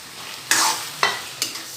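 Cauliflower and egg gravy being stirred and sautéed in a pan, with three or four quick scraping stirs over a steady sizzle, close and moderately loud.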